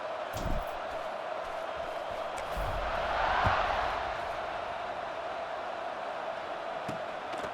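A stadium crowd at a college football game, likely from a video game, makes a steady, distant roar that swells briefly in the middle, with a few thumps underneath.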